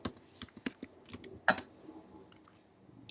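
Quick bursts of keystrokes on a computer keyboard as a comment is typed, irregular clicks close by, alone and fairly quiet.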